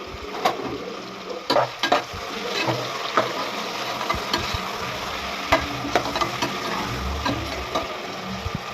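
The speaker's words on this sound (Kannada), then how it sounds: "ಸ್ವಲ್ಪ ರೋಸ್ಟ್ ಆಗಬೇಕು. ಈರುಳ್ಳಿ ಚೆನ್ನಾಗಿ ಕೆಂಪಗಾಗಬೇಕು." Onions roasting in a pan for biryani, with a low sizzle under irregular stirring scrapes and sharp spoon clinks against the pan.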